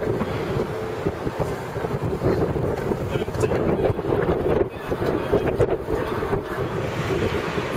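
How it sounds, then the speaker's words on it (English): Strong wind buffets the microphone at the top of Meadowlands Stadium, a continuous loud rumbling roar with gusty surges, and faint voices underneath. "the difference in the wind up here"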